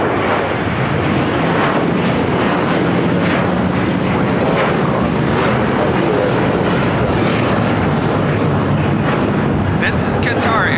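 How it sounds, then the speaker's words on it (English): A Qatar Airways Airbus A350-1000 takes off at LAX with a loud, steady, broadband jet engine roar that fills the whole stretch without letup. "This is Qatar Airways Flight 740 taking off to Doha on the A350 1000"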